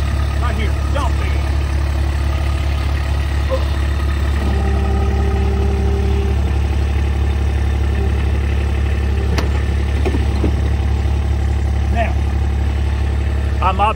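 Kubota RTV-X1140 utility vehicle with a diesel engine running at a steady, quiet idle, a continuous low drone throughout with faint clunks and a person speaking over it.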